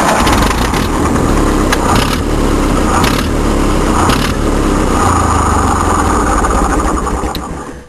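A 1950 Ferguson tractor engine runs loud and rough close by, a steady, unbroken idle chug that carries on alone until it trails off at the very end.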